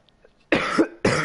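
Two loud, close coughs from a race commentator, a short gap between them, with faint quiet background before the first.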